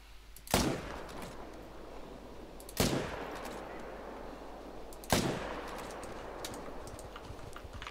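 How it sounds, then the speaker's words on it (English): Three loud rifle shots ring out in the hunting video game theHunter: Call of the Wild, evenly spaced about two seconds apart, each a sharp crack with a long rolling echo tail. "How have I just used 3 shots and not killed it?"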